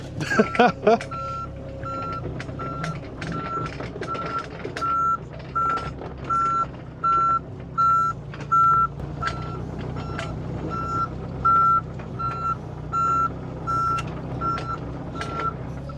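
Steady reversing beeps repeat at an even pace over a low vehicle engine rumble, with a few mechanical clunks early on.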